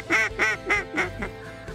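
Geese and ducks calling overhead in flight during a Saskatchewan waterfowl hunt, a series of about five loud, honking calls in quick succession, close and clear with nobody talking.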